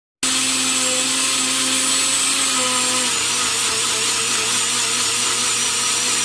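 A mixer grinder coarsely grinds fresh coriander and mint for chutney, a loud, steady motor whine with a rattling, churning edge that runs unbroken throughout.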